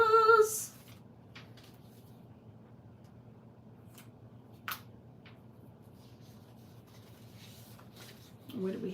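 Quiet, soft scratching of a purple coloured pencil on paper for a greeting card minibook, with a few small taps, framed by brief voices at the start and end.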